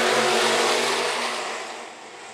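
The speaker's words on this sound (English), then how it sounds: "Here comes Jesse Taylor now down the back straightaway." A stock car roars past at Phillips County Raceway, its engine loud at first and fading steadily as it pulls away.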